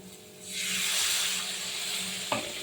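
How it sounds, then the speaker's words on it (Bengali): Spice paste for a fennel-seasoned pabda fish curry is stirred in a pan, and a splash of water sets off a loud, spreading hiss of sizzling steam, with a brief knock from the spoon near the end. "নেড়ে চেড়ে আমি সামান্য জল দিয়ে মশলাটাকে কষাবো"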